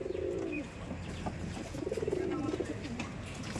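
Soft, low coos of Giribaz pigeons roll out in a couple of drawn-out phrases over a steady background hum, fairly close, at a pigeon farm.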